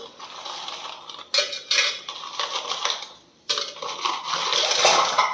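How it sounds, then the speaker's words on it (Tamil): Dry biscuit pieces clatter and tumble into a hard mixer jar in a few bursts, with light clinks and rattling against the sides. "இப்போ இதில் இருக்கிற ஓரே பிஸ்கெட் எல்லாத்தையும் எடுத்து மிக்ஸியில் ட்ரான்ஸ்ஃபர் பண்ணிக்கலாம்."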